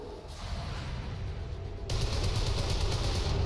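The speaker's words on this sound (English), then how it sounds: "Oh, headshot, beautiful Mox" Gunfire in a video game: a burst of rapid shots cracks out, then a louder sustained rattle of fire continues, with no talk over it.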